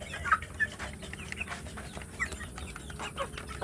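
Free-range village chickens cluck close by, with soft repeated clucks and brief calls scattered over a low background hum.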